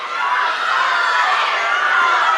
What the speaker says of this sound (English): Crowd really getting involved